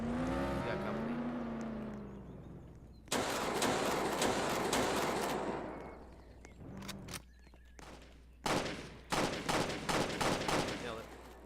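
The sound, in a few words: gunfire in Roblox video game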